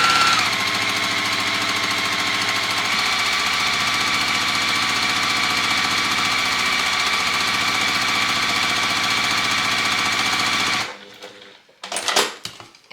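A sewing machine stitches a quilt block with a loud, steady, close mechanical whirr that runs unbroken for about eleven seconds, then stops and leaves a few soft handling knocks.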